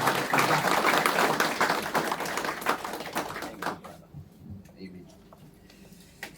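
At a graduation service, an audience breaks into dense applause. The clapping thins over a few seconds into scattered claps and then near quiet.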